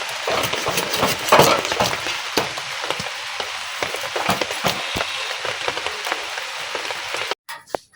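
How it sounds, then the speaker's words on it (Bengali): Rain falls outside a village home kitchen, a dense, steady patter and hiss with scattered sharper drops that continues alone and fairly loud before cutting off near the end. "বাইরে অলরেডি বৃষ্টি পড়া শুরু হয়ে গেছে।"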